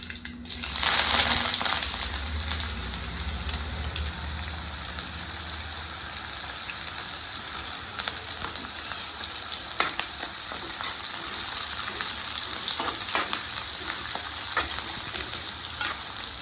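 Mustard seeds, onions and curry leaves fry in hot oil for chole masala, with a loud sizzling burst at the start that settles into a long, steady crackling hiss close by.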